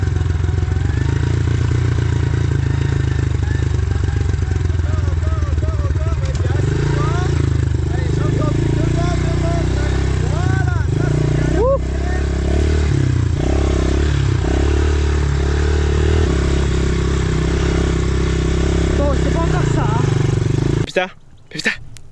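Small motorcycle engine running steadily and close by, its low drone holding throughout with a few clattering knocks, while people talk over it.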